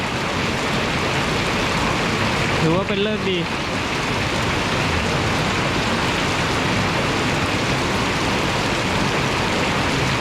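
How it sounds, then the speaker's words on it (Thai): Heavy rain pours steadily at a campsite at Huai Mai Teng in Thailand, a dense, unbroken hiss throughout, with a voice speaking briefly over it partway through. "ฝนตกลงมาอีก"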